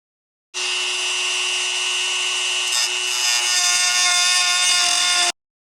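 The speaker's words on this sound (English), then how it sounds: "Pretty easy job with the Dremel." A Dremel rotary tool cuts through a metal bracket for a DRZ400S fuel tank install, giving a steady, loud high-pitched grinding whine that holds for about five seconds before cutting off abruptly.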